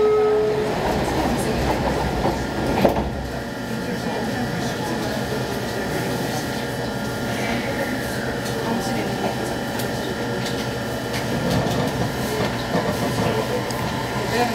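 A JR Kyushu 817 series train on the Nippo Main Line rolls along with a steady rumble and rhythmic clickety-clack, a continuous mechanical hum underneath, and a brief sharper knock early on.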